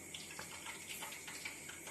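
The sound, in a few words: sprinkling water onto pakoda batter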